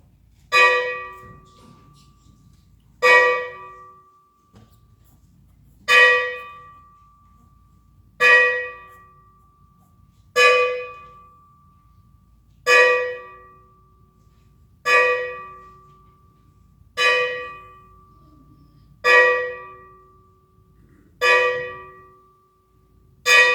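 A single bell struck slowly and steadily, about every two to three seconds, each strike ringing clearly then fading. It sounds moderately distant, with no talk.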